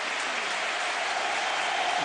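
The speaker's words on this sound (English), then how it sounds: "Massive cheer, as you can imagine, for Andres Iniesta" A large stadium crowd roars in a sustained, loud cheer at the Nou Camp during a Barcelona versus Atletico Madrid match as Andres Iniesta comes on, a dense wall of noise with no break.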